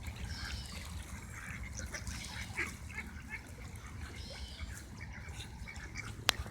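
Ducks quack and honk in a steady, busy flock sound outdoors with a trickling background, fairly close, and a sharp knock near the end; no talking.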